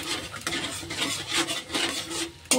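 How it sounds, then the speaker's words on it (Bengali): A spoon stirs ginger and white sesame spice paste in a cooking pan, making repeated close scraping strokes in an uneven rhythm, ending with a sharper clatter. "একটু নেড়ে নেব"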